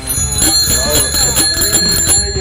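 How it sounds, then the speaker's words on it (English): A bright metallic bicycle bell rings close by in quick repeated strikes, loud and steady, with no talking. "make sure your bell works"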